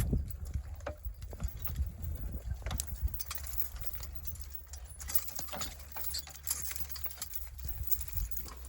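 Draft horses' hooves clip-clop steadily as they pull a rolling plough during spring ploughing on a farm, a loose repeating rhythm of fairly close thuds over quiet outdoor ambience.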